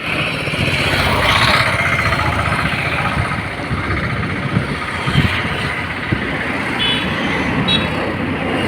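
Steady traffic noise from cars and trucks on a main road in Kolathur, a continuous broadband roar with passing vehicles, moderately loud throughout.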